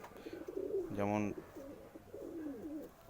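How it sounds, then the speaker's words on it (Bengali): A Kaldoma pigeon, a flying breed, gives a single loud close-up coo: a throaty, rhythmically pulsing call lasting about half a second, with someone talking before and after it. "আর একটা কালদমা পায়রা এসে গেছে"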